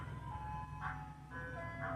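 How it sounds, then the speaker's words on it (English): Ice cream truck chime playing faintly in the background, a thin repeating melodic tune drifting from a distance over a low steady hum, with no talking. "ice cream truck in the background like usual."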